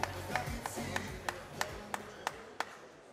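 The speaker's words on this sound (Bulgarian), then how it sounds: "Ще помоля да аплодирате господин Лъчезар Страхилов" At an MMA event's award presentation, a handful of sharp, separate claps ring out at a slow, irregular pace over a low background hum and faint voices, sounding like sparse clapping rather than full applause.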